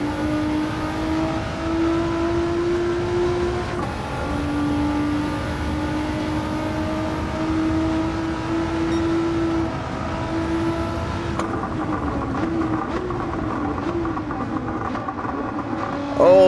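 Race car engine in the driving game Gran Turismo 7 held at high revs through a long acceleration, a loud sustained whine with brief shifts, under a player's occasional talk during a police chase.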